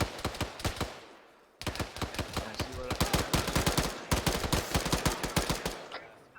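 Rapid bursts of heavy .50 caliber machine gun fire from a video game, several sharp rattling strings loud and close, separated by brief gaps, during platoon training play.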